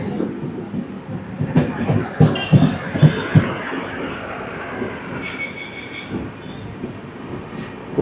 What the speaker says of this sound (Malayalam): ഇത് എറണാകുളത്ത് നിന്ന് ഡൽഹി വരെ പോകുന്ന വണ്ടിയാണ്.